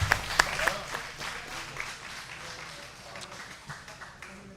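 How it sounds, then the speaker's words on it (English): Crowd at a mat-based grappling event claps after a match, with a strong burst at first that thins and fades into scattered claps, and voices murmur in the background. "Clap it up for them. Clap it up."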